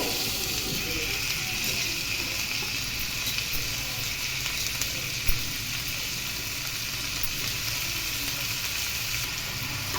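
Tomato pieces sizzling steadily in a pan over fried ginger-garlic paste, a continuous bright crackling hiss of frying that holds evenly throughout, close and fairly loud with no voices.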